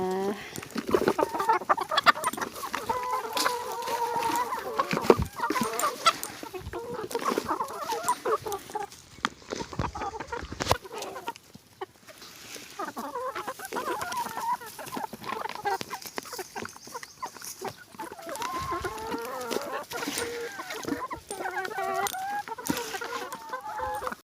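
Laying hens on a Thai farm cluck and murmur continuously, with overlapping calls from several birds close by and brief quieter gaps, and no people speaking.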